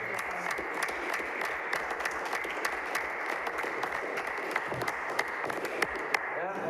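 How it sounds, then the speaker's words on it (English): Applause fills a town board meeting, a steady wash of many hands clapping from a seated crowd at a modest level. A few sharper claps stand out near the end. "everybody should clap for that because it was well done"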